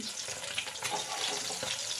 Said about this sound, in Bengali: তো কড়াইতে সরষের তেল বসিয়ে দিয়েছিলাম গ্যাসে তো তেলটা গরম হয়ে যাওয়ার পর তারপরে মাছগুলো ছেড়ে দিচ্ছি